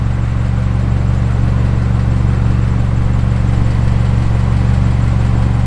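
A warmed-up vehicle engine idles steadily, a loud, continuous low rumble with a constant hum and no revving throughout.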